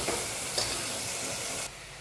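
Cabbage tipped into a pan of frying tomatoes brings a loud, steady sizzle with stirring scrapes, then the hiss drops abruptly near the end.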